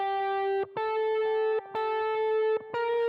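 Villain 2 theme from the Sonic Unleashed game soundtrack plays as a bright, edgy electronic tone. Four long notes at a steady level are split by short pauses, loud and without speech.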